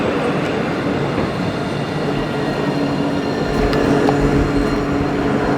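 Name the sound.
tram arriving in Nottingham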